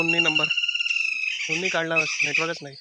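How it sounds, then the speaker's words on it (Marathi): Evening birds in a quiet Konkan village yard call in repeated squawking, chirping bursts that stay close and fairly loud, with a person talking briefly over them. "पक्षी ओरडत आहेत मंडळी."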